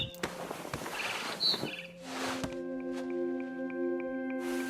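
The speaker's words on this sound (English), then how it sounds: "Then I heard chirping outside my window. It was a barn swallow going back to her nest." A barn swallow chirps in What Remains of Edith Finch, with short bright tweets scattered over a soft outdoor ambience and faint rustling, close and moderately loud, with no talking.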